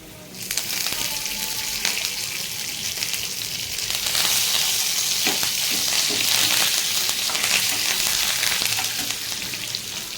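Dried red chillies and curry leaves fry in hot oil for a Telugu pesarapappu tomato curry, giving a loud, continuous sizzle and crackle that swells midway and keeps going steadily with no talking.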